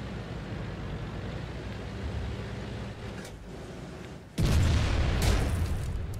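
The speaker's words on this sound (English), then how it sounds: "this is the first shot in a long time from T-44" A T-44 tank cannon fires in World of Tanks, one sudden loud boom that cuts in abruptly over a steady low rumble of engine and background noise, then lingers as a heavy, sustained blast.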